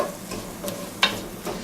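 Chopped large onion sautes in a pan for pork jambalaya, a steady close sizzle with a light stir or clink of a utensil.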